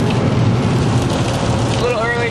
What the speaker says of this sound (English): It's raining, but I don't mind.